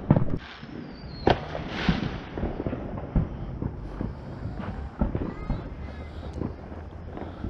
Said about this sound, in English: Fireworks shows happening at our local airport.